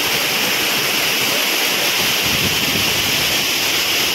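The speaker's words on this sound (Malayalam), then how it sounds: "ഇപ്പം ഞാൻ നിൽക്കുന്ന ഒരു സെൻട്രൽ പോർഷനാണ് ഇപ്പം അരീക്കലിൻ്റെ വെള്ളച്ചാട്ടം" Rushing water at the central part of Areekal waterfall near Pampakuda, Muvattupuzha, a loud, unbroken roar of falling water close by with no talking.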